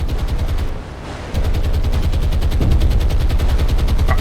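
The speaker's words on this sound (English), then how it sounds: "That is a lot of anti-aircraft fire." Rapid anti-aircraft gunfire in the naval combat game War on the Sea, a dense stream of fast repeating bursts, loud and continuous, briefly dipping before resuming even heavier with no talking.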